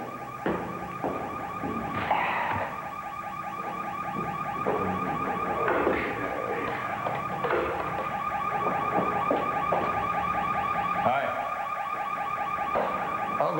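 A car alarm blares continuously at close range, with a steady repeating electronic wail, during a staged scene treated as a false alarm.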